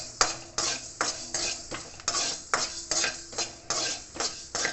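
Fenugreek seeds are roasted in a hot pan for jaggery mango pickle, with a utensil stirring them in a steady run of sharp, close scraping strokes and a light sizzle between them.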